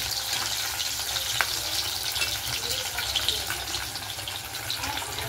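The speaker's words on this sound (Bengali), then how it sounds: "মাছটাকে লাল করে পুরো ভেজে নিয়েছি" Fish frying in hot oil in a home kitchen, a steady bright sizzle and hiss running close and even throughout, with no talking.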